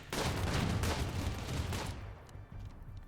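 Turrets in a video game open fire on unexpected visitors, a loud, dense crackle of rapid shots for about two seconds that then fades to a quieter rumble.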